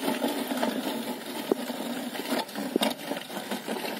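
A cycle hand weeder fitted with five plows is pushed along the ground, making a steady, close rattling whir. Two brief knocks stand out partway through.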